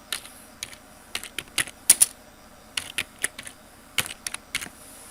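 Someone types a folder name on a computer keyboard, producing quick irregular key clicks in short clusters over about five seconds, close and moderately loud, with no talking.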